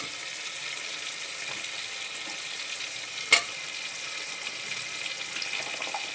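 Cauliflower pieces hitting a pan of hot spice masala set off a bright, steady sizzle, with one sharp clatter partway through and the frying continuing close and even to the end.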